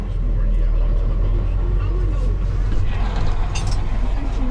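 A ride-on mower engine drones steadily and loudly throughout, a constant low rumble with no pauses.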